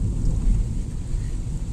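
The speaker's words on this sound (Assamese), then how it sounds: "এয়া সব বৰষুণ দি আছে" Rain falls steadily outdoors, a continuous low roar with a faint hiss, fairly loud and unbroken, with no voices over it.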